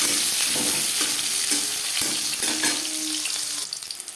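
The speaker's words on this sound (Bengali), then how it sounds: "দিয়ে দেবো পেঁয়াজ কুচি একটা বড় সাইজের পেঁয়াজ আমি স্লাইস করে কেটে নিয়েছি" Sliced onion and a torn bay leaf frying in hot oil, a loud continuous sizzle with a rhythmic stirring scrape about every half second, close up and without talking.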